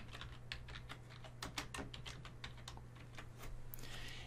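Text typed on a computer keyboard for MicroStation CONNECT Edition: rapid, close key clicks in an uneven rhythm over a low steady hum, ending in a brief rush of noise.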